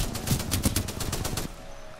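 Rapid automatic gunfire in Titanfall 2: about ten evenly spaced shots in a quick burst lasting around a second and a half, then a faint lingering tone with no talk.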